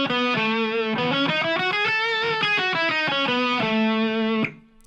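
An overdriven electric guitar plays a fluid melodic lick in A Lydian, running quick ascending and descending notes before landing on a held tone that is cut off at the end.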